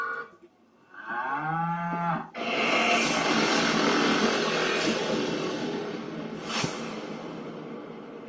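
Cattle mooing, a cow and a bull, with a long, loud low bellow that swells and holds for several seconds at close range before trailing off.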